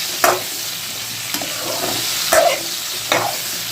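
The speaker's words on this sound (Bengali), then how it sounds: "হলুদটা দিয়ে আমি একটু ভালো করে নেড়ে চেড়ে নেব" Potatoes and pointed gourd with turmeric are stirred in a wok. Several distinct spatula scrapes land at irregular intervals over a steady close-up sizzle of frying.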